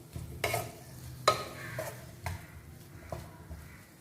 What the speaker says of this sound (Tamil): இந்த ஸ்பைசஸ் எல்லாத்தையுமே லைட்டாக நம்ம இந்த எண்ணெயில் கொஞ்சம் ஃப்ரை பண்ணிக்கலாம்